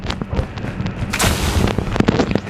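Video game battle gunfire crackles in rapid bursts and sharp pops, with a denser burst of booming shots in the middle of the passage, loud and close.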